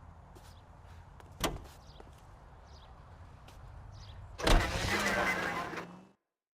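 In the LA Noire video game, a car door shuts with a sharp thump, followed a few seconds later by a second clunk as the engine starts and settles into a low idle before cutting out.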